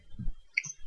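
A single crisp computer mouse click sounds during office software use, a short, sharp tick amid a few soft low knocks.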